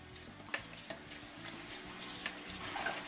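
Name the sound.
stirring ranch seasoning mix for pork chops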